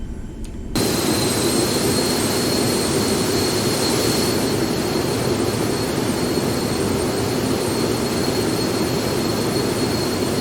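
Simulated jet airliner engine roaring in a steady loud drone during a landing replay in the X-Plane 12 flight simulator, continuous and unbroken after a brief quiet start.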